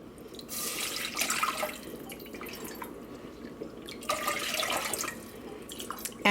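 Water from a tap pours and splashes steadily into a pot, four cups for a sea moss drink, with surges in the flow and no talking.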